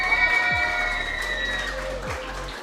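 Crowd at a teachers' association spelling bee final applauds young finalists, a steady wash of clapping under a sustained tonal hum, with no clear speech.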